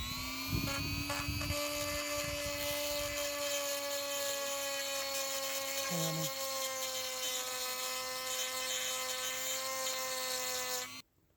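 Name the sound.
Dremel rotary tool grinding motorcycle engine case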